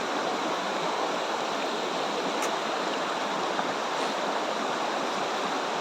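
Steady broadband rushing of river water flowing, constant and fairly close, with no talking over it.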